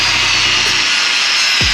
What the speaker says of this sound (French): je vais couper le grillage, meuler le tout pour que ça fasse propre